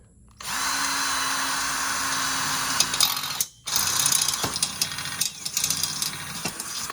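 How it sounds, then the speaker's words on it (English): A power drill whirs loudly and steadily for several seconds, briefly stops, then restarts with uneven bursts as it bites into material, drilling a pilot hole. "And just drill a pilot hole."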